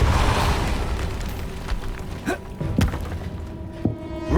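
Several blunt spell impacts thump and boom one after another in Hogwarts Legacy, the Depulso force charm landing amid dense game ambience, each hit sharp and fairly loud.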